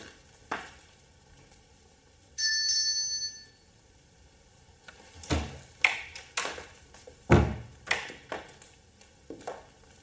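A small service bell rung once in a radio drama to summon a butler, a bright ringing chime followed by footsteps and light clattering and creaking in a quiet interior; no one speaks.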